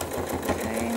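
A sewing machine runs steadily at close range while stitching down couched cord, a fast, even mechanical whir with rapid needle pulses.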